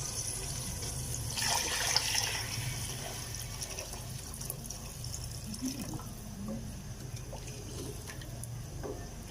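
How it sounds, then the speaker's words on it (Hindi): Water being poured into a pot for whole masoor lentil khichdi, a brief louder gush near the start settling into a quieter trickle and faint splashing over several seconds. "अब हम इसमें पानी डाल देंगे।"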